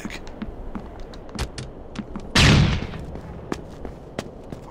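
A flashbang or breach charge blows in Rainbow Six Vegas with a single loud, bright burst lasting about half a second, set among scattered sharp clicks and gunfire-like pops.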